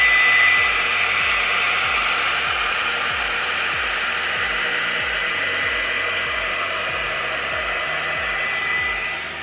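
A GHD Duet hot-air styler runs steadily on fine hair, a loud, continuous blowing roar with a faint rhythmic low pulsing beneath it, close and uninterrupted throughout.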